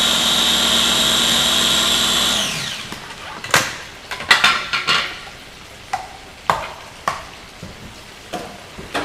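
A small electric mini food chopper whirs loudly and steadily for a couple of seconds while making chicken cacciatore, then cuts off, followed by scattered clattering knocks.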